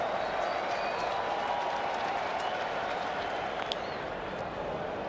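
A baseball stadium crowd cheers and claps in a continuous broad roar, hoping for a strikeout, steady and moderately distant for the whole stretch.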